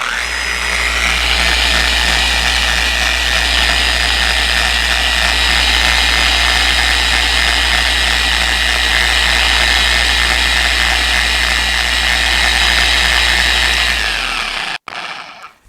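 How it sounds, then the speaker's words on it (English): A FLEX 3401 dual-action polisher runs steadily on a car's clear coat, a loud continuous motor whine with a low drone that holds for the whole stretch before cutting off abruptly near the end. "keep the polisher going without plowing into the surface of the clear coming into the curve"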